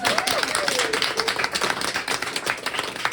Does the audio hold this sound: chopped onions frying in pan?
no